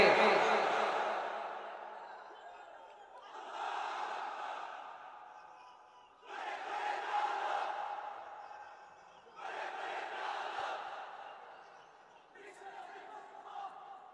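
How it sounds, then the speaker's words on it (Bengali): At a Bengali Islamic sermon, a large crowd answers with the takbir chant, swelling in roughly four loud collective waves of voices with short lulls between, the preacher's voice leading into it. "যারা চলবে বলতেছেন লিল্লাহি তাকবীর"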